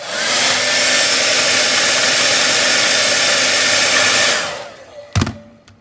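Hairdryer blowing hot air onto the plastic window of a Funko Pop box, a loud steady roar held for about four seconds, then cut off, followed by a couple of sharp handling knocks.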